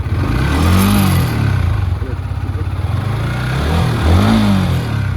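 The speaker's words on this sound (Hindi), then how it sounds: "ये जो गाड़ी फरफरा रहा है, मतलब ये इंजन से आवाज आ गया।" A scooter engine runs unevenly up close, its rough, fluttering drone rising and falling with a rattling clatter underneath.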